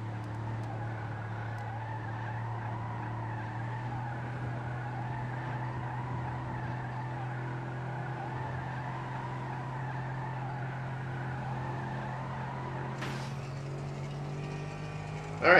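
Car driving in Grand Theft Auto 5 on PS3, a steady droning engine hum with a constant low tone throughout, a sharp game sound effect breaking in near the end.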